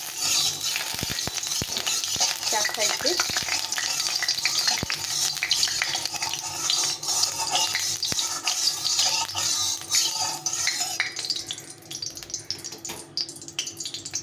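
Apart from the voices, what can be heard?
oil heating and sizzling in a wok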